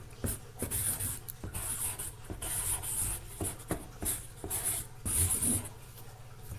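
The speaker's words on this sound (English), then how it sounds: "I usually write fragile in great big letters." Marker squeaking and rubbing across a cardboard shipping box for a wreath, writing large block letters in repeated close strokes with short pauses between them, with no voices.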